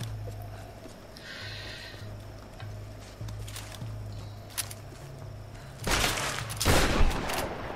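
Gunfire in the video game Tomb Raider, with a few scattered sharp reports early on, then a louder burst of shots near the end over a low steady game hum.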